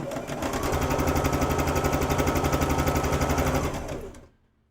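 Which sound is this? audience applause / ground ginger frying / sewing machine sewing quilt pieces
sewing machine sewing quilt pieces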